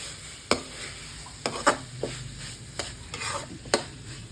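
A spoon stirs mixed vegetable sabzi with garam masala and kasuri methi in a pan, giving a handful of irregular scraping strokes over a faint, steady sizzle.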